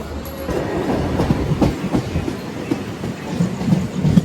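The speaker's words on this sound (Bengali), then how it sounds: "ট্রেনটা রানাঘাট থেকে ছেড়ে দিল।" A train pulls away from Ranaghat station, its wheels setting up a steady rhythmic clatter over the rails, a close, continuous rumble with no voices.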